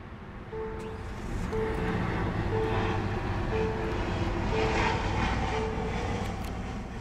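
2014 Hyundai Azera Limited engine fired up with a push-button start, a soft low hum that swells after the first second and settles into a quiet, steady idle with faint tonal whine.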